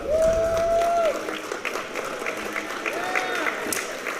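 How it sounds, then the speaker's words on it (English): Audience applause fills a state championship venue as the gold medal winners are announced, a steady crowd clapping throughout with a couple of long whistle-like tones and some voices underneath. "You hear applause from the audience."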